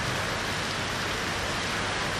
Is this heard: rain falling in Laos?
yes